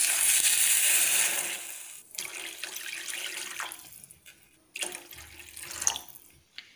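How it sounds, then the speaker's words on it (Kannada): Water splashes steadily into a cooking pan for semolina upma at roughly three glasses of water to one of semolina, pouring in bursts with brief pauses and a clink of the pan. The pour is close and fairly loud, with no voices. "ನಾನು 1 ಗ್ಲಾಸ್ ರವೆಗೆ 3 ಗ್ಲಾಸಿನಷ್ಟು ನೀರು ಹಾಕ್ತಾ ಇದ್ದೇನೆ"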